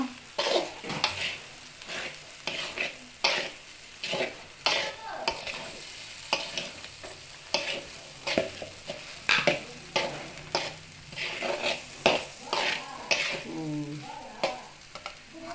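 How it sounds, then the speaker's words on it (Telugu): Fish curry masala with coriander powder is stir-fried in a pan, a soft steady sizzle broken by rhythmic scraping strokes of a spoon every second or so, heard close and without talk. "ఇది ఇప్పుడు మనం పచ్చి వాసన పోయిందాకా వేయించుకోవాలి."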